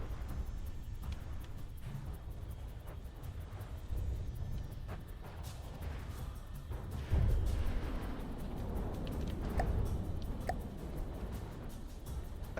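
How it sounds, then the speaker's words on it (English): Explosions and gunfire thud and crackle in a naval combat battle in the game From the Depths, a continuous low rumble punctuated by scattered sharp reports and heavier booms. "Big explosion."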